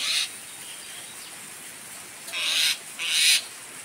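Three short, bright bird calls stand out against a quiet background: one at the start, then two louder ones close together near the end.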